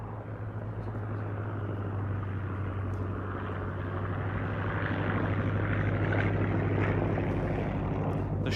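A Fieseler Storch flies at a VE Day air show, its propeller engine droning steadily and slowly growing louder as it passes, with a low constant hum beneath.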